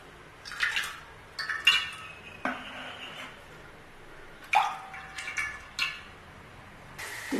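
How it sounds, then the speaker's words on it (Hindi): A spoon clinks against a cooking pot on the stove as oil goes in, with several short metallic taps and scrapes separated by quiet pauses. "चूल्हे पे चढ़ा दिया देगचा, 3 चम्मच ऑयल डाल दूंगी।"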